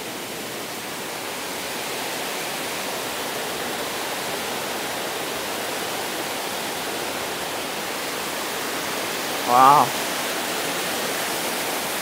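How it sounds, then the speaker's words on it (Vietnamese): Mây waterfall in Thanh Hoá roars loudly and continuously, a broad close rushing wash of falling water that fills the scene, with a brief exclamation from a voice near the end. "Không biết là tiếng thác rất là ồn."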